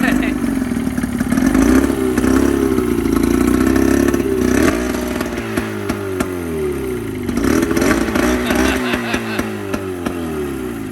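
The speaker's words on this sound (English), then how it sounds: "two-stroke sound." A two-stroke outboard motor on a small aluminium jet boat revs and clatters loudly up close, its pitch repeatedly sweeping up and down in buzzing bursts, with voices talking over it.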